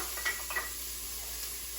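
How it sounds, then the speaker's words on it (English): Chopped onion hitting hot oil in a pan, giving a steady broadband sizzle with a couple of brief clinks of a utensil near the start, close and moderately loud, with no talking. "you know your oil is hot when it applauds for you, when it makes that sizzling sound"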